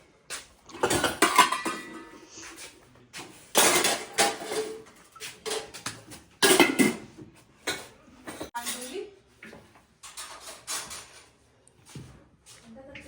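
Dishes and utensils clatter and clink in bursts as they are scrubbed with sand and rinsed, with a voice speaking intermittently over the work.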